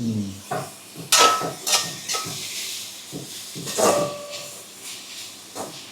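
Hot oil sizzles and hisses steadily as spices are tempered for chickpeas, with a few sharper crackles and pops bursting out over the frying.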